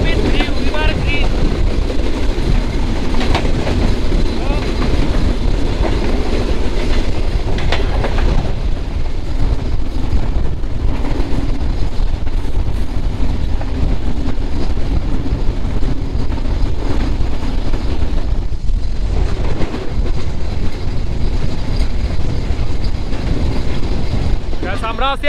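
Chilahati Express, a Bangladeshi passenger train, rumbling along near a river bridge through the countryside, a loud continuous roar with rhythmic clatter from the cars and a few shifts in tone along the run.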